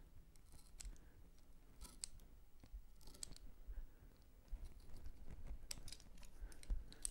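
Small scissors snip wing material while a tube fly is tied, giving a series of close, crisp cuts over a quiet background with faint handling noises.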